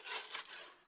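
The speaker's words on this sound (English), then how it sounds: "I'm going to start by trimming that to 7 by 7" Craft paper is cut on a paper trimmer, giving a short, faint, close scraping glide in two quick strokes.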